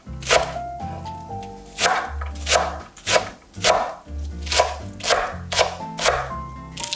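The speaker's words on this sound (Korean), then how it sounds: "다시 길이로 몇 번 칼금을 넣고 송송 썰어주세요." A knife slices green onion on a cutting board in a steady run of crisp, evenly spaced chops, loud and close, with no talk over it.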